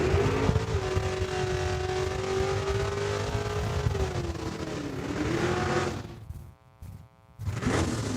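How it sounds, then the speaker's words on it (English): A modified 1991 Ford Mustang does a burnout in the lane at a drag strip: a loud, sustained engine roar holds steady and then dips and wavers, briefly cuts out and comes back in strongly. "in the 1991 Ford Mustang. I'm going to suggest that it's not in stock configuration with that burnout"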